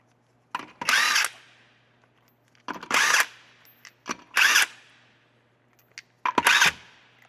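An impact power tool spins off 19mm wheel nuts from the front wheel of a 2008-2020 Dodge Grand Caravan, giving four separate loud, close bursts of whirring and rattling with quiet gaps between them.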